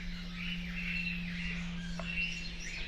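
Diamond firetail finches giving soft, thin chirps and short call notes from nearby over a constant low electrical hum, a few calls rising and falling across the stretch.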